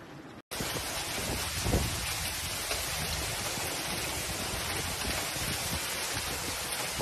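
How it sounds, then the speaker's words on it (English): A violent hailstorm pounds Rome, Italy, in a dense, unbroken roar of ice striking surfaces. After a brief cut near the start, the roar holds steady and loud with no voices. "A sudden violent hailstorm struck Rome"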